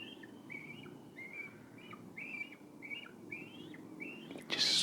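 Cormorants call outdoors in a steady series of short, bright squawks, roughly one every half second, over a low background hum, ending with a louder burst of noise.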